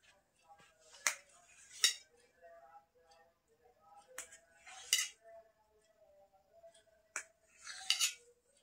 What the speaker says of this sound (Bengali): তো এটা এখন আমি কেটে নেবো, ছোট ছোট করে কেটে নেবো